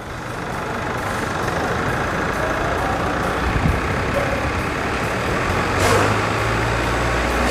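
A Chevrolet S10 pickup driving in four-wheel drive gives a steady, loud engine drone close by, with a low rumble and a few faint clanks and hisses along the way.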